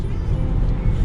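A car engine likened to an old BMW E46 straight six gives a steady, close low rumble with a dense drone throughout and no distinct peaks or breaks.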